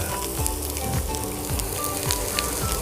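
Egg and onion sizzle in a pan with pork belly and salted egg, a steady loud crackling fry with soft repeated scraping sweeps of a utensil and no voices.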